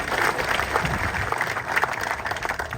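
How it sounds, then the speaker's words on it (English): A round of applause for Katie at a ribbon cutting at Riverfront Park: a crowd claps steadily and fairly close for about three seconds, with no one speaking. "she deserves a round of applause"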